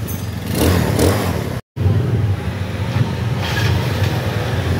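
Yamaha Mio Sporty scooter engine, fitted with a new CDI to fix hard starting and low-rpm stalling, running loudly up close with rough revving bursts and a brief cut in the middle.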